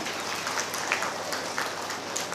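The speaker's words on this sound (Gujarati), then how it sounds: "આ બાળકો માટે જોરદાર તાળીઓ થઈ જાય" Audience applause for students at a school annual day celebration, a steady, dense crowd clapping that holds at an even level throughout without pause.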